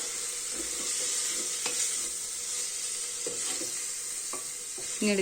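Chicken curry sizzling steadily in a pan while a spoon stirs and scrapes it, producing a few soft knocks and clinks over the continuous close frying hiss, with no talking.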